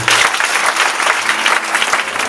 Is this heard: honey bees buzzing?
no